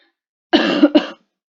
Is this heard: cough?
yes